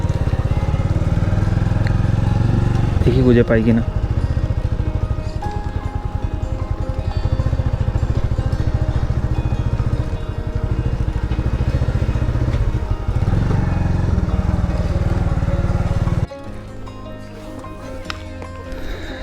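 Motorcycle engine running steadily on a hill-station ride near a lake at Mirik, loud and continuous for most of the stretch, dropping to a quieter idle near the end, with a voice talking briefly over it.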